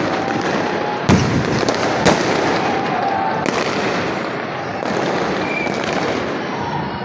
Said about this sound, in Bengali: আতসবাজি চলছে পুরান ঢাকায় নতুন বছর দুই হাজার পঁচিশকে স্বাগত জানাতে ছাদের উপরে আতসবাজি চলছে